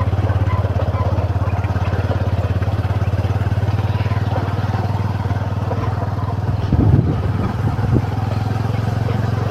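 Motorcycle engines run steadily while riding along a village route past farm fields, a constant close hum with a brief louder rattle near the end and no voices.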